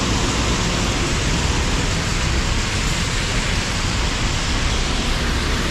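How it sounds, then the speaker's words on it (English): Heavy rain pours steadily at a street junction in Chow Kit, a dense, loud, unbroken wash of hiss with no pauses or voices. "It's heavily raining."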